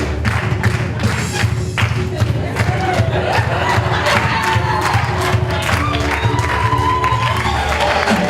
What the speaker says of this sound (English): Let us clap, as usual, yes.